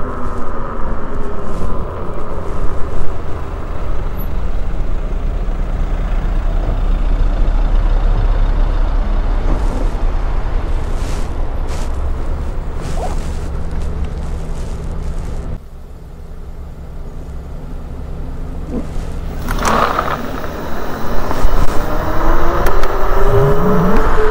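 A Zero 11X electric scooter pulls away from a standstill, a rising whine sweeping upward through the acceleration amid loud road and wind noise, with passing traffic rumble around it.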